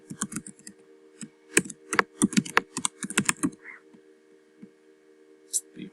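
Someone types an email address on a computer keyboard in quick, uneven bursts of close key clicks, then the typing slows to a few scattered taps before a brief pause.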